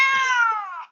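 A cat gives a single clear meow, close and loud, lasting about a second and falling away at the end.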